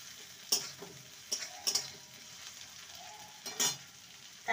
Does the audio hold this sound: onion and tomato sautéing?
yes